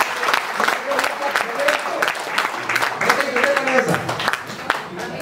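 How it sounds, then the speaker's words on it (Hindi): A hall audience at a university kavi sammelan poetry event breaks into sustained, dense applause, loud and continuous for several seconds. "अब आप एक बार जोरदार तालियां बजाइए।"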